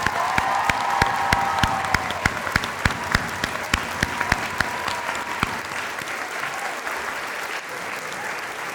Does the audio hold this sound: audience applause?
yes